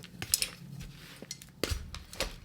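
Potting soil mix, a fluffy blend with leca, being stirred and tossed together in a container while repotting plants, giving scattered scraping and clinking bursts at close range with no talk.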